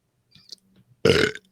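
A single loud, croaky burp erupts after a moment of near silence and a few faint mouth noises.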